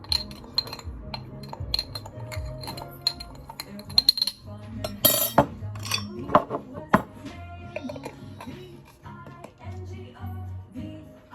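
A spoon clinks repeatedly against a glass jar while homemade ground ingredients are mixed for a milk-boosting blend, with irregular close, bright taps and scrapes and a cluster of louder clanks midway.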